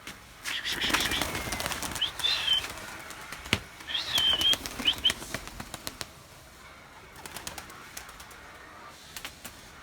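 Tumbler pigeons flap their wings inside a coop in several close, fluttering bursts, with soft cooing and a faint voice in the background.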